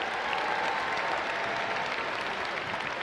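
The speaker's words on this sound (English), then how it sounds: "How about one more round of applause for our adolescents" An audience applauds at a high school graduation ceremony in a university hall, a dense, even wash of many hands clapping continuously from a distance.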